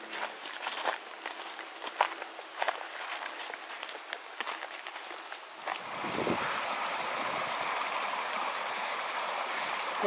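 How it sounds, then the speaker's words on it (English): Mountain creek below Lawrence Lake in the Desolation Wilderness, first faint and mixed with crunching footsteps, then a steady, fuller rush of flowing water from about six seconds on as the creek is approached closely. "Well, I'm below Lawrence Lake at the creek, getting ready to cross it"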